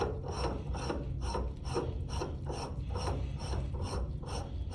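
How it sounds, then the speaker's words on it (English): A threaded fitting is screwed down by hand, giving about ten evenly spaced rasping, grinding strokes, close and fairly loud, with no voices. "There we go, and now I'll tighten it down."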